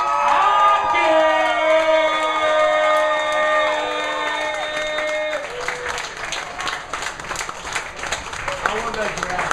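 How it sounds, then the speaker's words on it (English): An audience at a stand-up comedy show cheers and whoops loudly at first, with voices calling out over a crowd, then the noise settles into a sustained ripple of clapping that fades slightly. "please give a big round of applause for Robbie Hockett!"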